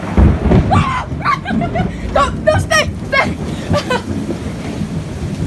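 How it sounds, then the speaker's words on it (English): Thunder rumbles low and steady beneath rain during a big storm, with people talking excitedly over the top throughout. "Okay, thunder."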